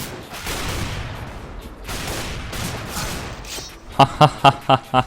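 Gunfire in the video game Hitman: a burst of five sharp, evenly spaced shots near the end, after a stretch of noisy game background.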